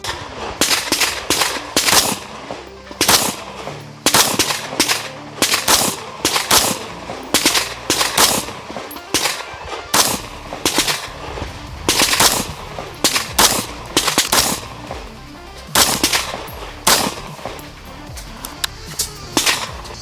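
Rifle shots are fired at a cardboard target about 25 metres away, heard as loud, sharp cracks in irregular clusters and rapid strings across the whole stretch.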